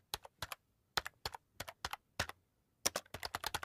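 Fingers type an app name on a keyboard in quick close clicks, grouped in short bursts with a brief pause before a final rapid run of keystrokes.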